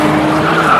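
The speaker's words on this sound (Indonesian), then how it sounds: "itu adalah suara mobil yang sedang Frank modifikasi sebagai kendaraan untuk melancarkan" A modified car roars with a loud engine and squealing, skidding tires, a continuous close and intense burst.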